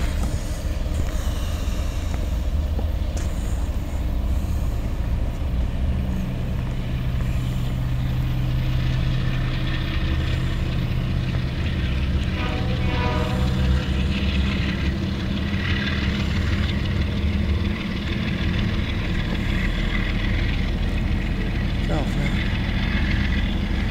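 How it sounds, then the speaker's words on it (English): CSX local freight train F762, led by CSX locomotive 5389, passes northbound on the Monroe Subdivision in Chester, South Carolina, a steady loud rumble with low engine drone filling the whole span. "CSX Local Train F762 heading northbound through Bandwick, South Carolina, CSX Monroe Subdivision."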